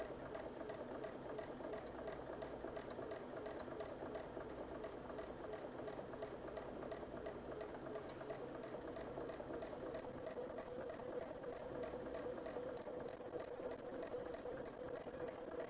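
A sewing machine stitches in the ditch on an embroidery project, a steady, rapid mechanical chatter of needle strokes running continuously and evenly throughout at moderate loudness, with no talking.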